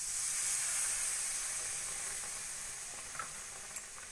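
Half a cup of milk poured into a sizzling spice paste, a soft steady hiss that slowly fades, followed by a couple of small clinks near the end.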